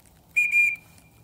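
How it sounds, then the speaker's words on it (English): A dog recall training whistle gives two quick, shrill, nearly joined blasts, loud and close, with quiet before and after. "If you do the quick whistle and they're not coming,"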